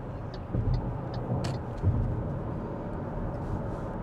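An MG4 EV cruises on the M4 motorway in South Wales, giving a steady low road and wind rumble inside the cabin with a couple of soft bumps and light rattles.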